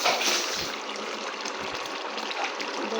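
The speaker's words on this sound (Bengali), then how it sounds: "দেখুন কত সুন্দরভাবে ফুটছে" Taro and beef curry bubbling in a pot, a steady close simmering gurgle and wet hiss with soft pops, no talk.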